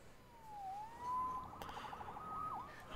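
Police siren in the Spider-Man video game wails from a distance, its pitch sweeping down and up in a thin, steady tone over a low city hum, faint and alone.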